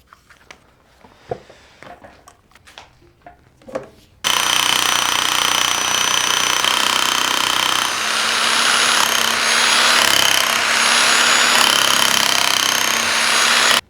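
A pneumatic stone sculpting hammer fitted with a chisel bit is driven against stone, starting abruptly as a loud, continuous rapid-fire hammering with a metallic whine that runs steadily for about ten seconds after a few quieter scattered taps.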